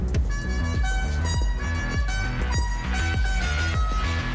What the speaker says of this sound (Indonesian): Kita pencet klaksonnya ya, bunyinya aneh nih.